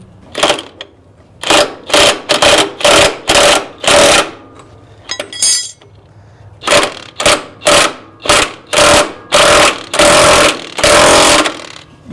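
An impact wrench works on a Farmall 130 tractor hitch, firing in loud, close bursts: short repeated hammering rattles with brief pauses between, then longer sustained runs near the end.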